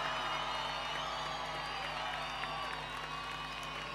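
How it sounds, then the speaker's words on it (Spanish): Audience applause mixed with crowd cheers and whoops at a Caporales dance performance during the Arica carnival in Chile, a steady, dense wash of clapping and outdoor crowd noise lasting throughout. "¡Aplausos!"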